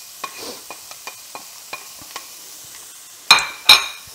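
Diced onion cooks in oil in a pan for a beef short rib ragu, with light spatula taps over a faint sizzle, then two loud sharp scrapes of stirring near the end; no talking.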